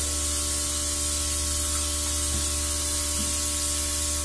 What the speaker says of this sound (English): So you just really want to spray it around your face, wait till it dries